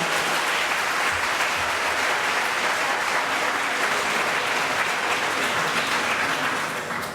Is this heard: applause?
yes